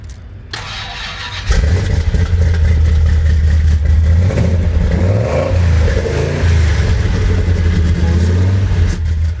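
A gasser hot rod's engine cranks and fires up, then idles and revs loudly with a choppy, lumpy rhythm, close by at a hot rod car event.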